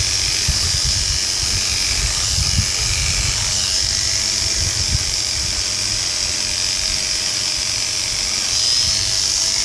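Electric dog clippers buzz steadily and close as they run through a long, thick, combed-out coat, a constant high motor whine with uneven low rustling as the blades move through the fur.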